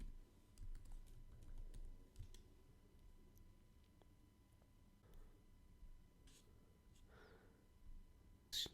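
Someone types a password on a computer keyboard while setting up Azure AD synchronization, producing faint, quick key clicks in short irregular runs in a quiet room.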